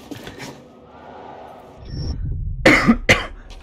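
Two sharp, loud coughs close to the microphone, one right after the other, following a quiet stretch of faint background noise.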